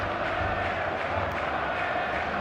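A large stadium crowd in the eFootball video game roars in a steady, dense wash of cheering and chanting, loud and continuous across the whole stretch, with no distinct voices rising above it.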